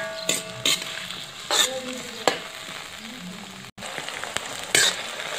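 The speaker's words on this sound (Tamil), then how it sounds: "கத்திரிக்காய் வந்து எண்ணெயில் நல்லா வேகணும்" Brinjal pieces sauté in oil with a continuous sizzle and fry. Intermittent sharp scrapes and clinks of a spatula against the pan break it up, and a short dip in the sound comes partway through.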